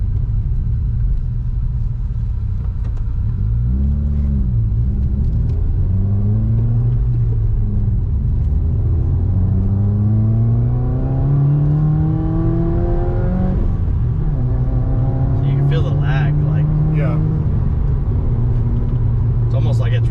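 A 2019 Subaru WRX engine pulls hard under acceleration, a loud steady rumble with rising rev sweeps as gears climb, heard from inside the car while people talk over it.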